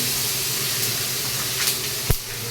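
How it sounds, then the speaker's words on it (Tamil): Crushed garlic sizzles in hot oil for a tamarind curry, a steady broadband hiss throughout with a brief louder spatter near the end, close and without talk. "நல்ல பெரிய பூண்டு ஒன்று எடுத்து அப்படியே நசுக்கி வச்சுருக்கிறேன் அதை சேர்த்துக்கலாம்"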